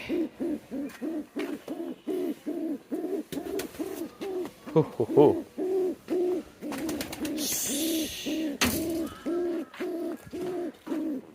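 Pigeons coo steadily after a red male is paired with a female, a close, rhythmic run of deep repeated calls with short gaps, continuing almost without pause.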